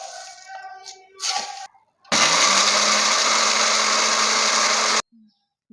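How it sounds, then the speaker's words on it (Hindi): An electric spice grinder runs steadily for about three seconds, loud and close, whirring as raita masala spices are ground, with quieter kitchen handling noises before it and a sudden stop at the end. "अब हम इसमें इसको डाल के थोड़ा थोड़ा करके पीस लेंगे"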